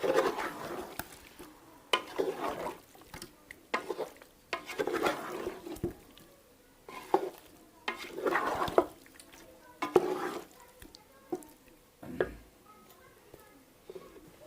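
A spoon stirs red potato curry in a pan in repeated bursts of scraping and soft sizzle, separated by short pauses, close and moderately loud.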